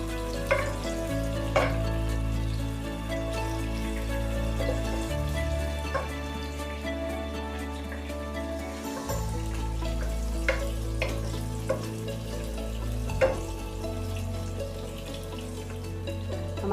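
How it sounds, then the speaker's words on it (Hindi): Brinjal (eggplant) frying in a pan for a spicy fried brinjal recipe, a steady low sizzle running throughout beneath a droning background hum, with a few faint clinks. "हमारे ब्रिंजल 3 मिनट फ्राई हो चुके हैं।"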